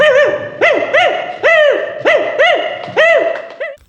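A voice imitates a dog barking at a school arts festival mimicry contest, a rapid run of short, loud, close yelping barks, roughly two per second, with a few quick doubled yaps.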